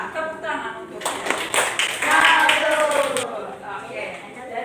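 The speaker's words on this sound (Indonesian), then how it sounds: "Tepuk tangan untuk dia." Primary school children in a sixth-grade classroom break into a short burst of hand clapping in the middle, with a teacher's voice talking before and after it.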